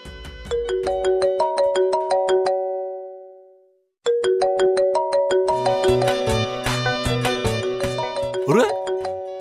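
A mobile phone ringtone plays a bright repeating melody of chiming notes, cuts off briefly, then resumes louder with a fuller, layered tune, close and steady throughout with no talk.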